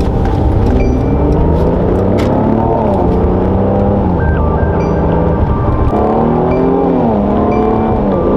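A car drives and accelerates, its engine loud and close throughout, the pitch climbing and dropping through gear changes, with a steady road roar underneath.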